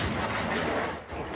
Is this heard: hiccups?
no